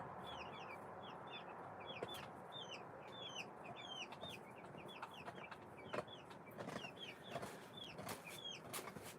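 Chickens cluck steadily in a barnyard, with several birds calling in overlapping chirpy bursts over a constant background hum and occasional sharp knocks.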